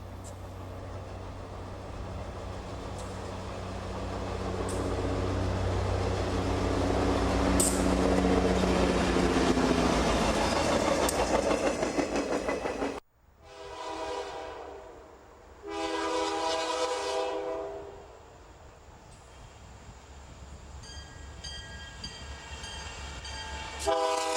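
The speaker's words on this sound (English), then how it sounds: "WOR 202 with Conrail GP 38-2 8056 with the Jordan spreader is heading for Lock Haven" Conrail GP38-2 8056 leads train WOR 202 with a Jordan spreader toward Lock Haven on the Buffalo Line, first a loud, steady rumble of the passing train, then two separate sustained horn blasts after a sudden drop in noise.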